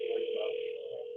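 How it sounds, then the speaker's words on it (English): Telephone dial tone, a steady electronic hum held continuously and at moderate level for just over a second, with no voices over it. "I got to get Josh on the phone so we can do the review."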